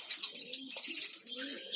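Pigeons cooing and chirping on a bird farm in Bangladesh, several soft overlapping calls repeating at close range with no talk.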